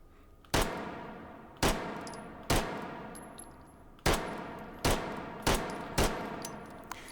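Seven sharp, loud pistol shots from a 1903 Pocket Hammer, fired singly at irregular intervals of about half a second to a second and a half, each followed by a short ringing decay, with no talking.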